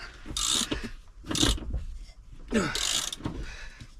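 A ratchet working stiff seat bolts loose on a Ford Transit Custom, with several bursts of close, crisp clicking separated by short pauses and faint effortful sounds between them.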